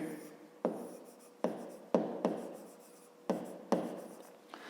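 Chalk or marker strokes on a board during a math lesson, six sharp scratchy taps each trailing off, close and clear in a quiet room, with a voice speaking softly.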